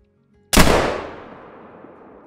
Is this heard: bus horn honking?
no